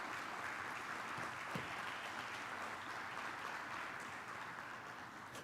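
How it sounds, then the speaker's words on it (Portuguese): A church congregation applauding during a Portuguese-language sermon, a steady, even wash of clapping held at a moderate, somewhat distant level for the whole stretch with no voices over it. "Dá um aplauso para o Evangelho de Jesus."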